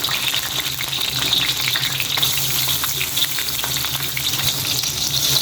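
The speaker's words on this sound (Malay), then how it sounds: "Okay, kita tumis macam biasa" Garlic, shallots and anchovies sizzle hard in hot oil in a wok, a steady loud crackling fry with stirring scrapes throughout.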